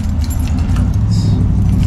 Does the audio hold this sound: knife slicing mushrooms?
no